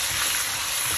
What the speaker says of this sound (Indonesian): Dan kita goreng sampai dia lembut.